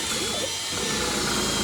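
A power drill bores into brick, a steady, loud, dense grinding whir that runs continuously without a break.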